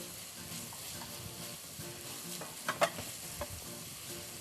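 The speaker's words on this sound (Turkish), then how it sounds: "kavrulan soğan, sarımsak ve havuçlarımızı içine ilave ediyoruz. Karıştırmaya devam ediyor Ayşegül Hanım." Onion, garlic and carrots are stirred in a pan as they sauté, giving a steady soft frying hiss with a few sharp scraping clinks of the spoon partway through. No one speaks.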